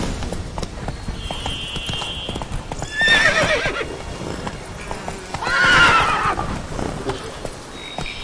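Horse hooves clip-clop steadily while riding in Hogwarts Legacy, with two louder neighing whinnies rising over the galloping rhythm, one near the start and one later on.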